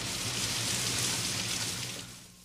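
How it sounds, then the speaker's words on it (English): Rain falling indoors inside a store, a steady broadband hiss of patter and drops that holds evenly, then thins and softens near the end, with no voices over it. "It's raining inside the store."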